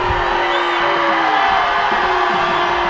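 Loud high school football crowd at Bulldog Stadium, Howe Bulldogs fans booing while Pottsboro Cardinals fans cheer, a dense continuous roar of shouts and whoops filling the stands.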